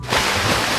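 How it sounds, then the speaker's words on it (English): Water splashes on a water slide, a close, loud, brief burst of spraying and rushing water that swells quickly and stays dense for under a second. "It's splashing me!"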